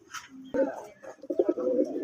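Rajgolla pigeons cooing in a pair, a few soft low coos close by over about two seconds, with faint background noise.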